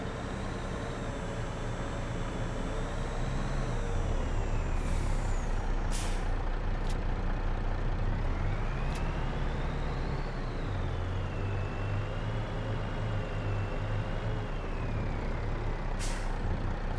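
A heavy truck in the farming game Farming Simulator 22 idles with a steady low engine drone, punctuated by several sharp, loud air-brake hisses and releases, with faint reversing beeps heard in the background.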